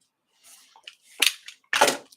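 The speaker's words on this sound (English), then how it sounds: "That was me banging the camera." Sharp knocks from a camera being banged during a live drawing session on coated print paper: a few quick, close percussive bangs, two louder ones near the end, with no talking.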